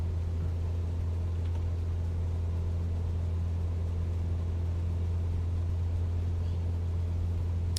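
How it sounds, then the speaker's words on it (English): In Microsoft Flight Simulator 2024, an aircraft engine drones loudly and steadily, a constant low hum with a strong deep tone and no voices heard over it. "The engine is so loud."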